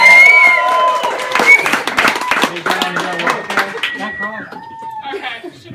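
Wedding guests at a reception break into a burst of cheering and clapping that fades after a few seconds, with talk and voices continuing over the settling crowd.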